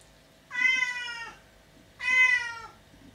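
A Siamese cat meows twice, each call long, clear and drawn out with a short pause between, close by in an otherwise quiet indoor room.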